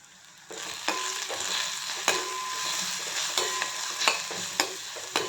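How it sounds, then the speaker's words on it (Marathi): Ground spices sizzle in hot oil for a potato sabzi, turmeric with coriander-cumin powder, while a spoon stirs them in with sharp scraping clicks roughly every second over a steady close frying hiss. "सगळे मसाले तेलामध्ये परतून घ्यायचे"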